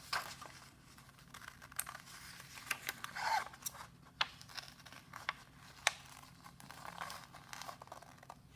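Scissors snip through paper while leaves are cut out for a fall craft, giving a string of quiet, separate clicks and crinkles spaced irregularly over a soft background hiss, with no talk.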